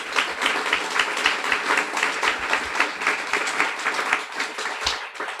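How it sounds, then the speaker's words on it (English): An audience at a Guiding Eyes graduation ceremony claps steadily, a dense, even stretch of applause lasting several seconds without pause. "A warm round of applause for both of them."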